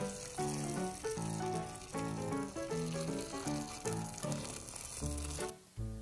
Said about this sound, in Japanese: ここにねお湯かけます。